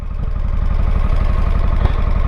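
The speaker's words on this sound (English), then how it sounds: "Got a nice pop as well on the exhaust." A Harley-Davidson Pan America Special motorcycle idles close by, its engine giving a steady, loud, evenly pulsing low rumble with one slightly sharper exhaust pop partway through.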